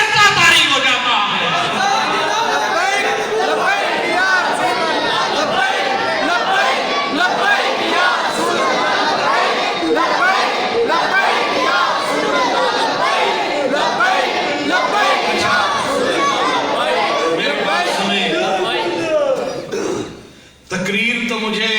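A large crowd at a religious gathering honouring Khadim Hussain Rizvi roars a slogan in unison, dense overlapping voices sustained loudly for about twenty seconds before briefly dropping off near the end.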